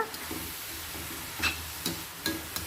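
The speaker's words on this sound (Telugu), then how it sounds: "వేయించాలి సన్న సెగ మీద లైట్ గోల్డ్ కలర్ వచ్చే వరకు వేయించాలండి ఉల్లిపాయ ముక్కలు" Onion pieces frying in oil over a low flame give a soft, steady sizzle, with a few brief stirring clicks and scrapes and no talking.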